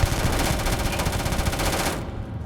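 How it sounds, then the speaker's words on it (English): Rapid automatic gunfire in the space shooter game Starfield, a loud, continuous burst of closely spaced shots lasting about two seconds before cutting off abruptly. "And more shooting over there."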